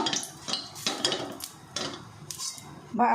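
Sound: spreading oil around a kadai (wok) with a spoon

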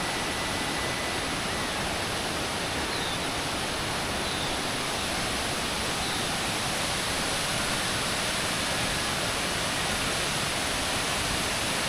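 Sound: Rani Duduma waterfall

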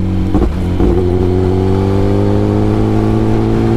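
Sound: Kawasaki ZX10R motorcycle engine revving as throttle is twisted

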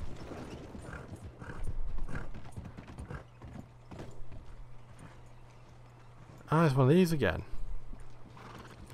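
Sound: horse hooves clopping over wood in Red Dead Redemption II, video game

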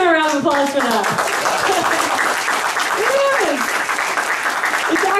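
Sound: audience applause

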